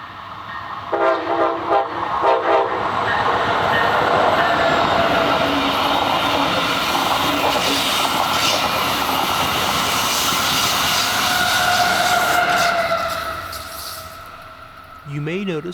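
Bright purple-wrapped Brightline passenger train passing northbound near the Taylor Creek Bridge in Fort Pierce, horn sounding early in bursts before a long, loud steady rush of wheels and cars that fades near the end, then another horn blast.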